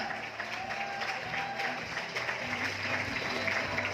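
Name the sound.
loud applause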